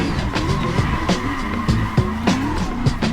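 Tires squeal repeatedly as a car drifts in second gear, engine revving in rising and falling pulses between short skids, loud and close.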